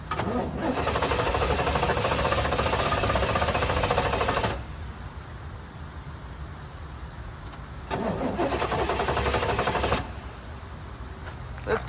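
A 1989 Pontiac Trans Am GTA, long unregistered and abandoned, cranks and fires into a loud rough run for several seconds, dies back to a lower murmur, then revs up again briefly before dropping off.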